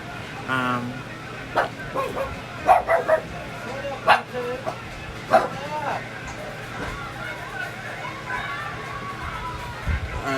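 Dogs bark and yip in scattered bursts, some sharp and close, with voices talking in the background.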